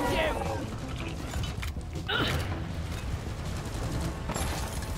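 Bursts of gunfire in the video game Deep Rock Galactic, loud clustered shots and mechanical clatter coming in waves, with people talking over the action.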